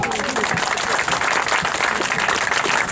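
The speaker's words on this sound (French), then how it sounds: "Et on peut les applaudir." An audience claps in dense, sustained applause that fills the room steadily and loudly, with no voices rising above it.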